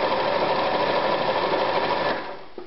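Anker 220 sewing machine running an elastic zigzag stitch, a loud, close, steady motor whir with fast needle beats that slows and stops near the end.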